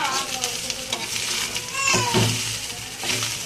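Grated coconut curry frying in ghee while a spoon stirs it, producing a loud, continuous sizzle with rhythmic scraping strokes and faint household voices in the background.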